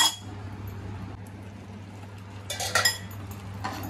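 Malvani-style surmai fish curry masala paste being sautéed in a pan, heard as faint clinks of a utensil against cookware over a steady low hum, with a brief cluster of sharper scraping clinks near the end.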